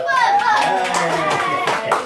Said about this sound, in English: Everybody give him a big clap.